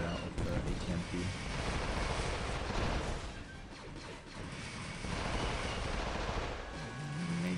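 The ATMP walker in Star Wars Commander fires at a turret amid a dense, continuous barrage of rapid blasts and crashing impacts, loud and sustained throughout.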